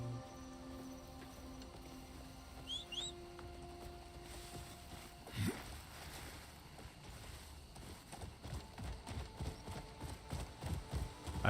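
A horse's hooves clip-clop while it is ridden in the video game Crimson Desert. Soft wind and ambient noise come first, then a steady, rhythmic run of hoofbeats grows louder toward the end.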